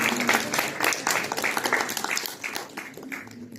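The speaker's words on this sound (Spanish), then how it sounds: "Un aplauso para ella." An audience at a nutrition and emotional health congress applauds a person called up by name, a steady dense patter of many hands clapping together, with a faint murmur of voices underneath as it eases slightly toward the end.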